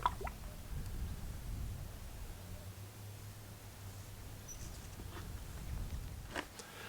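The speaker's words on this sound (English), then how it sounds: "by using a funnel so I can adjust the level just by pouring it in through here" Oil poured through a funnel onto a wooden post makes a faint, soft trickle and dripping against a quiet, hissy background.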